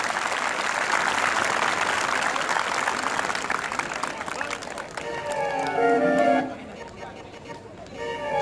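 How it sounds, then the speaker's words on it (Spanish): A street crowd applauds a comedic performer, with strong clapping and chatter for several seconds that thins out as voices and music take over near the end. "Pero motívame con un aplausito con fuerza,"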